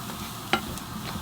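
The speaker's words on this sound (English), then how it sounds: "sift in the flour and mix that in with a wooden spoon" Choux pastry dough being beaten in a pan with a wooden spoon for profiteroles, heard as a quiet, low stirring and sizzling bed with one brief sharp knock.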